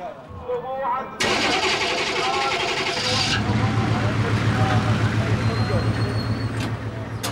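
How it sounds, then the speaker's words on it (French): A vehicle engine cranks and fires at about 1.2 seconds, then settles into a steady low idle through the rest of the clip, loud and close, while people talk over it. The setting is a tense street in wartime Baghdad. "on démarre le moteur, prêt à partir"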